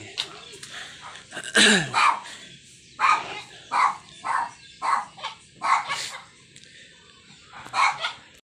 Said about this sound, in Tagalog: tatali muna daw yung aso kasi napakaingay